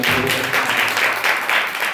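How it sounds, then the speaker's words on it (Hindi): A church congregation claps hands together in quick, dense rhythmic bursts, loud and close, with a faint voice briefly underneath at the start. "ताली बजा के उसके लिए"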